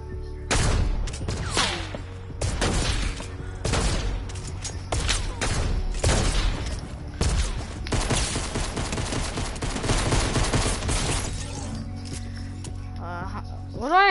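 Repeated bursts of gunfire from a gun in a video game, sharp loud volleys separated by brief gaps, then a dense stretch of continuous rapid shots with a player talking over the action.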